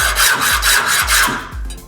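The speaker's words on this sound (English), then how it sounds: "I've got a kind of worn out chainsaw file here. It should just skate right off the metal anywhere it's hard." A worn chainsaw file rasps across hardened steel in a run of five or six loud, close strokes. It sounds like a steady rhythmic scrape, with no talk.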